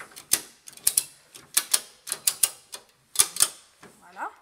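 A ratchet strap being tightened: a series of sharp mechanical clicks in uneven bursts, close and fairly loud, with brief pauses between pulls and a short faint voice near the end.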